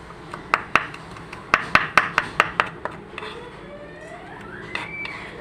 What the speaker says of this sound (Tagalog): pinupinuhin natin yan para hindi malasahan na may sili